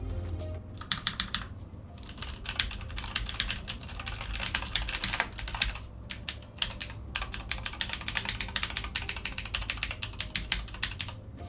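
Rapid typing on a Razer Halo Edition computer keyboard, close and crisp, with clicking bursts separated by short pauses.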